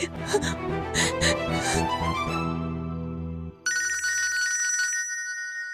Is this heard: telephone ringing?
yes